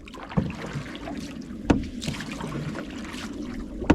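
Water splashes at uneven intervals as a small boat is paddled along through a Dutch village in the Netherlands, over a steady background of moving water and light wind.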